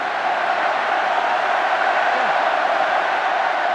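A packed rugby stadium crowd at a 2010 Wales vs South Africa test match keeps up a steady, dense roar of cheering and shouting, loud and unbroken throughout.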